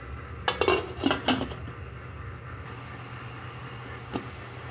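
A lid clanks onto a metal cooking pot of chicken tinola soup with vegetables: a quick cluster of loud metallic knocks and rattles, then a lone softer clink a few seconds later over a low steady background hum.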